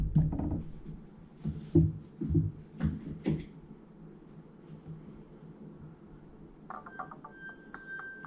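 Doom 2 played in DOSBox under Linux on an Acer Aspire One netbook: a quick cluster of thumping, crunchy game effects that trail off into quieter ambience, then a thin, buzzy electronic tone near the end.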